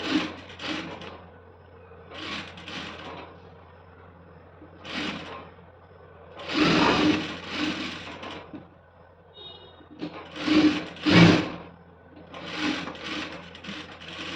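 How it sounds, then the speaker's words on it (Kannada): A sewing machine stitches a school uniform skirt in a series of close, loud bursts of mechanical whirring that start and stop repeatedly, with quiet pauses between runs. "ಈ ರೀತಿ ಒಂದೇ ಸಮಕ್ಕೆ ನೀಟಾಗಿ ಸ್ಟಿಚ್ ಹಾಕೋಬೇಕಾಗುತ್ತೆ"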